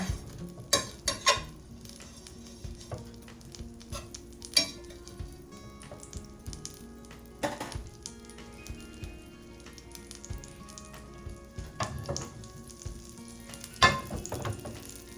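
Sourdough bread toasts in sizzling butter in a hot pan, a soft frying hiss broken by sharp clatters and knocks of the pan and utensils, close and moderately quiet.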